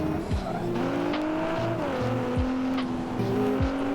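A revving race car engine in the video game BeamNG.drive whines and shifts pitch continuously, with short tire-screech sweeps, loud and steady.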